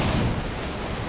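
Storm in the survival game Valheim: a brief, dense rumble of thunder and rain roaring steadily and loud for about a second, with no voices.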